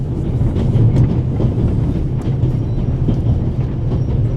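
The Orient Express in the video game The Raven rumbles along the rails, a loud, steady low roar with faint rhythmic clatter from the carriages, no voices over it.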